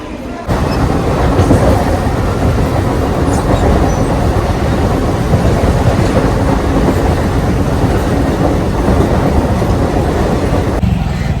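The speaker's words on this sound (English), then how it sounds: "My train is here." A Mumbai local commuter train rumbles loudly and continuously nearby as it arrives at a station, a heavy roar with rattling wheels as it pulls in.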